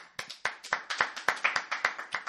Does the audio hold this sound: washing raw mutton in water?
no